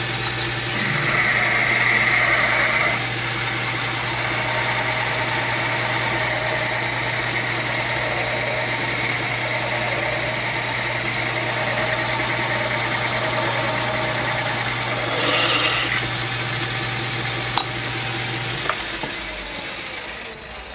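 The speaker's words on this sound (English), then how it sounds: "Center drill again with the 1964 drill" A center drill runs through brass on a machine for a model La France steam pumper build, a steady mechanical whir and hum with a higher grinding note that starts and stops near the beginning and end.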